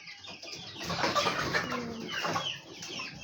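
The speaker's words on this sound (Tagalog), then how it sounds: "Yan ang mga manok" A flock of chickens clucks steadily, with overlapping calls and a few louder squawks, close by and without speech.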